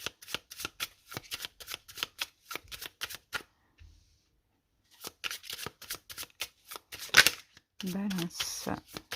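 Tarot cards being shuffled and drawn at close range: quick, crisp riffling flutters in rapid bursts with a short pause, followed by softer sliding and placing of cards.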